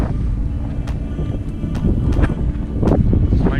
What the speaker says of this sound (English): It is super windy though.